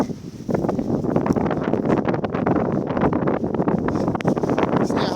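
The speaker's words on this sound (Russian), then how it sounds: "Снега немного, ветер страшный." Strong winter wind blowing in Belgorod with little snow on the ground, a loud continuous gusting roar with buffeting bursts that fill the whole stretch, no voices.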